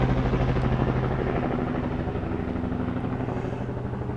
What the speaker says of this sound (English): Here comes the black helicopter, right, flying over the top.